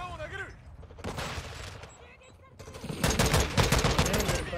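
Rapid automatic gunfire in Call of Duty: Modern Warfare II on PS5, loud and close, coming in bursts of dense rattling shots with a brief lull in the middle, over game ambience.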